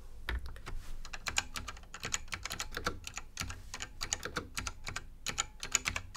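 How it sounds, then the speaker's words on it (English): Loud mechanical keyboard typing in an office setting, rapid close clacking keystrokes in irregular bursts, played alone without speech. "This is actually the quietest I can type on it."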